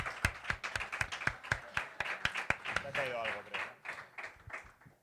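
Scattered hand claps from a small live studio audience on a Spanish radio show, sharp and close, mixed with talking and laughter that overlaps the middle of the burst.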